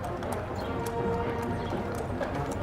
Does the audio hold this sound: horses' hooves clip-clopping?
yes